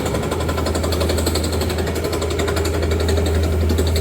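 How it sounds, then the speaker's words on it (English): A rock drill bores down through rocky ground at a downtown construction site, drilling holes for blasting; a loud, steady, rapid hammering with a heavy low rumble runs continuously and close by. "We're drilling down through rock, a lot of rocks here in this area."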